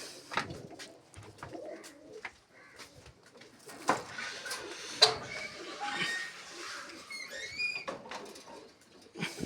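Pigeons coo in soft, repeated bursts close by, with scattered wing flutters and small knocks around them and little other noise.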